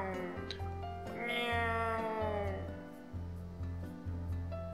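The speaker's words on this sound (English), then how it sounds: "It's a cat." A cat in the game WILL: A Wonderful World meows in long, rising and falling drawn-out cries over a low game music bed, loud and close, with a pause before shorter calls resume.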